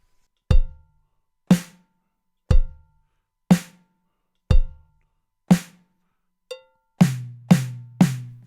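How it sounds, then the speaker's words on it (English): Eight sharp drum hits spaced about a second apart, then a faster cluster of three at the end, alternating a ringing small tom and a crisp snare. "Or you could move your right hand up to the small tom,"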